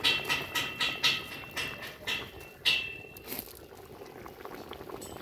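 Rabbit stew seasoned with herbs and chili boils in a cauldron, a bubbling, gurgling simmer with rhythmic surges that settle into a steady low boil.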